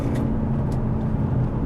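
An Aston Martin DB11 V8 with a ZF automatic gearbox in manual mode drops a gear, its engine note blending with a steady loud interior road roar.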